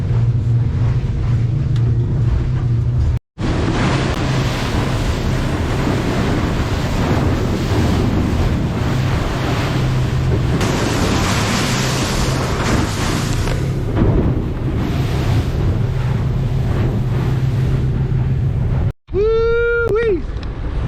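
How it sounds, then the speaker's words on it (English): Steady broadband roar of wind and surf on open water, loud and constant, with gusts buffeting the microphone; a brief dropout near the end. "Got some waves going on today. The wind is definitely pushing today"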